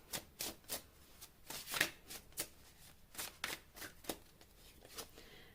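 Tarot cards shuffled in repeated bursts of crisp, close flicking and sliding, about a dozen quick riffles in a loose rhythm, with no talk over them.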